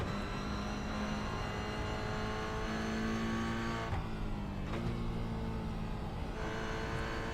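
A race car laps Okayama circuit, its engine droning loud and steady with harmonic whine, pitch dipping and climbing through gear changes and corners, continuous and close throughout.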